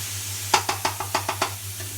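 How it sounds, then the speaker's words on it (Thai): Quick metallic knocks of a spatula against a pan while stir-frying pork, about eight strikes in a steady rhythm over a low hum and faint hiss. "ผัดหมูให้สุกก่อน"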